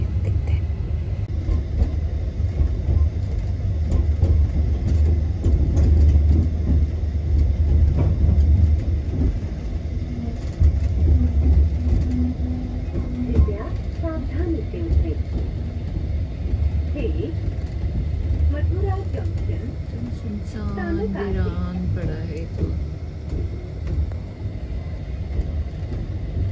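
A passenger train in India rolls along with a steady low rumble and rail noise throughout, some faint voices and squeals rising over the drone near the end.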